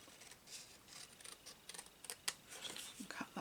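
Scissors snip through paper to cut a treat holder for a chocolate bar, giving close, quiet crisp cuts and rustling in an uneven rhythm.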